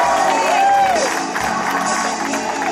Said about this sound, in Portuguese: Palmas pra Stephanie!